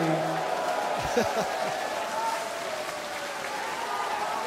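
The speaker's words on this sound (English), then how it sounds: "this appreciative crowd, they clap for 6 perfect darts" A darts crowd at the PDC Japan Darts Masters claps in appreciation after six perfect darts, a steady moderate applause from the arena audience with a brief cheer early on.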